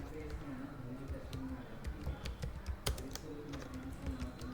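Rapid, irregular clicking of a computer keyboard as finished goods material data is entered in SAP software, fairly close and steady throughout, with faint talk underneath.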